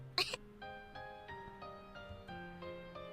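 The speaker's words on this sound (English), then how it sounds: "Miss Ohara coughs, still in this crouching position, before speaking." A woman gives one short, sharp cough near the start, followed by a quiet sustained tone, in a visual novel game scene.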